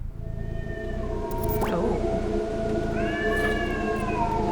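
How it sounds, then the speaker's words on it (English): Unhappy cats meow and wail in a basement within the horror game Burnhouse Lane, a couple of drawn-out cries rising and falling over a steady low ambient drone. "These cats sound very unhappy."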